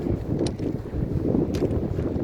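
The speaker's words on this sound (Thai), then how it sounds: "ทะเลลมแห้งฟ้าก็ใส" Wind at a beach gusts across the microphone in a steady low buffeting roar, loud and close, with no voices heard.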